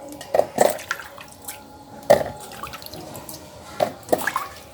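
Raw mangoes being rinsed in water, with a handful of separate drips and splashes spaced out across a quiet background, fairly close and soft.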